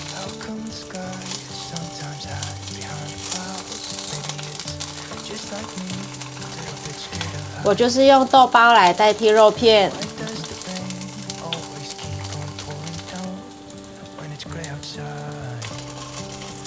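Tofu skin pieces frying in warm oil in a pan, a steady soft sizzle running under background music, with a short stretch of talking in the middle.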